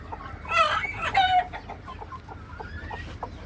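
A white hen on a rooftop poultry farm gives a burst of loud clucks and squawks near the start. Softer, intermittent clucking follows over faint background noise.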